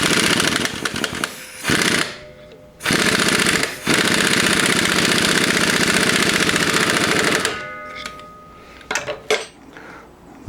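An impact wrench hammers a self-locking nut onto the Dana 30 front axle of a 1976 Jeep CJ-5 in loud, close bursts, two short then a long sustained run, with sharp rattles and clanks after.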